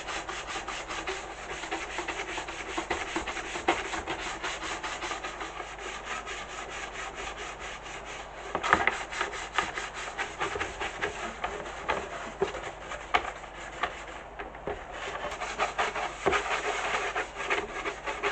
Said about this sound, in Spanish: Voy a darle un poquito también con el cepillo para meterme sobre todo en esas juntas o esos bordillos que hace